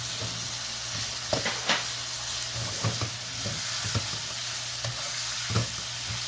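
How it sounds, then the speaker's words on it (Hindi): Finely chopped green chilies fry in a pan over medium heat for a Chinese biryani. A steady, close sizzle runs throughout, broken by light scrapes and clicks of stirring, with no voices. "इसको भी हम साथ फ्राई करेंगे"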